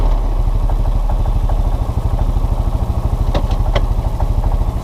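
A Linhai Big Horn 400 4x4 ATV with an intermittent crank-and-stall fault idles steadily and close, its low, rapid engine pulse chugging evenly with a few faint clicks on top.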